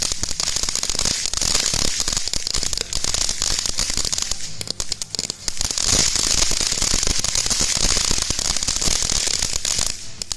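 TNT Icebreaker firework throwing out dense, continuous crackling, loud and steady throughout with rapid sharp pops and no talking.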